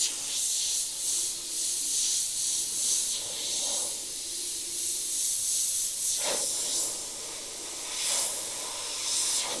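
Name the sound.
Iwata HP.TH airbrush spraying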